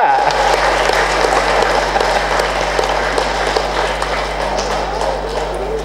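An audience at a spiritual meditation talk claps continuously, a dense, fairly loud wash of applause over a steady low hum.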